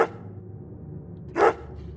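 A dog barks in the horror video game Remothered: Broken Porcelain, one short, sharp bark that comes after a quiet stretch with a faint low ambient hum and a brief sound at the very start.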